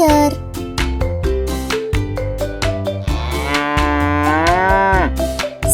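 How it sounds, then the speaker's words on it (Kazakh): A cow lets out one drawn-out, loud moo that swells and then drops away, heard over a bouncy rhythmic music track that plays throughout. "Бұл сиырдың дауысы."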